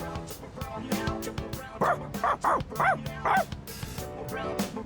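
A dog barks and yips repeatedly in a Persona 3 Reload game scene, several sharp close barks in an uneven rhythm over soft background music and ambience.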